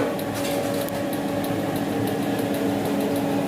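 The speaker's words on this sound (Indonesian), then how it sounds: "Hidupnya vakum ini ditandai dengan bunyi suara desingan air ya" A vacuum frying machine for making salak (snake fruit) chips starts up with a steady, continuous whir like rushing water, a dense mechanical hum with faint rhythmic ticking on top, close and unchanging throughout.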